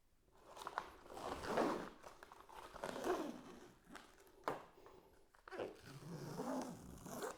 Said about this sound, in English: let's go ahead and peel off the wrap and see if the paint underneath is completely safe